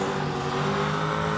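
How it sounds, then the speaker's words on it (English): A drift race car engine drones steadily at close range, its tone held low and strained as it labours under braking, with no voices. "you can hear the engine labouring up"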